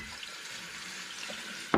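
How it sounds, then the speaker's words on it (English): A kitchen tap runs steadily, hissing and splashing as glass bottles are rinsed of sticky residue, with a brief louder clink or splash near the end and no talk. "I just want to rinse all my bottles off, get the sticky residue from them before labelling."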